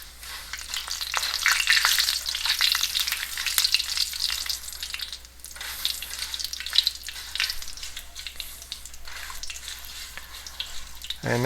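Dried chilies and urad dal fry in a pan, a close, lively sizzle with dense crackling and popping that swells and eases over the whole stretch, with no talking.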